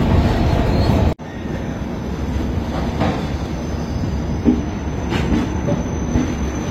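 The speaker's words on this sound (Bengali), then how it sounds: "সীতারামপুর জংশন স্টেশন ছেড়ে দিল মিথিলা এক্সপ্রেস" Mithila Express pulling out of Sitarampur Junction, heard from on board: a loud, continuous rumble of wheels on rail with occasional squeals and faint clatter, after a brief sudden drop in sound at the start.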